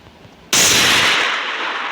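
An M1014 shotgun fires a single loud blast in the Free Fire video game, striking suddenly after near-silence and then ringing out in a sustained, slowly fading roar.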